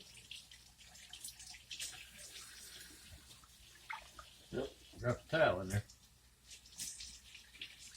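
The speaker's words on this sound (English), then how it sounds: "I'm just going to take some cold water over here, just kind of rinse them off a little bit" Cold tap water runs into a kitchen sink while pork steaks are rinsed, a soft steady splashing with brief louder bursts near the end as someone speaks over it.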